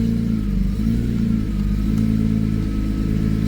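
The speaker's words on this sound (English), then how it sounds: "You can hear the pump kind of groaning." A BMW E46 M3 idles with a slightly bouncy engine note while its power steering pump groans under load, a steady low droning hum with faint clatter, close and continuous without any talk.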